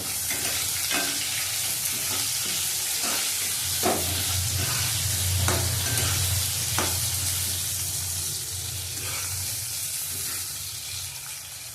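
Slit green chillies fry in oil in a pan, a steady loud sizzle close by with intermittent spoon scrapes while being stirred, easing slightly toward the end, with no speech.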